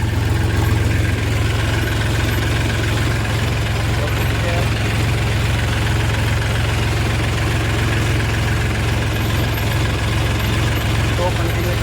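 A Massey Ferguson 245 DI tractor engine runs continuously, a loud, close, heavy low diesel rumble with steady knocking clatter throughout and no pauses.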